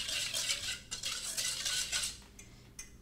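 A utensil stirs wet vegan cupcake ingredients with sugar and molasses in a bowl, giving close, rhythmic clinking and scraping strokes in quick bursts with brief pauses, no talking.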